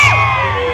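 Women in the audience at a charity folk orchestra event shout together, a loud, close burst of high-pitched yelling that holds on and then starts to thin out.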